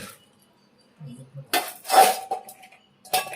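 Fresh fish, still alive from the boat, are tipped into a metal vessel with a short run of close, clattering metallic knocks and clinks, with a voice heard briefly nearby.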